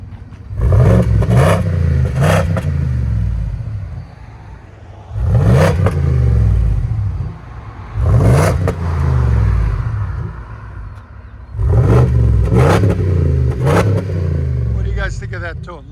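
A Ford F-250 with a 6.8L V8 and Carven R-Series exhaust with the resonator kept revs in four loud bursts, a deep rumbling tone rising and settling between throttle blips.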